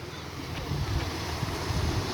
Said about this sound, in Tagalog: Ito daw yung beach nila dito.